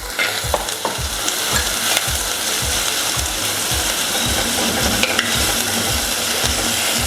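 Chopped onion and a small piece of ginger sautéing in a pan, a loud continuous sizzle with regular rhythmic stirring strokes throughout, close up and without voices.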